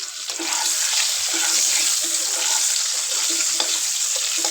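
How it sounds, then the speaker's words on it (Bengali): An egg frying in a hot pan, giving a steady, loud sizzle and crackle that carries on throughout with no talking. "আমি ডিমটি এখন বাজবো একটু ডিমটি বাজা দিছি"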